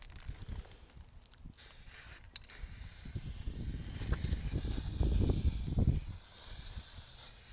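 Spray paint hissing onto a Mk2 Golf GTI door outdoors, with short bursts early on, then a long continuous spray against soft wind noise and no speech.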